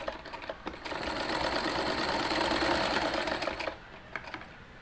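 A sewing machine runs continuously for about three seconds as it stitches a gathered, side-slit kurti. It is fairly quiet, with a few faint clicks before and after the run.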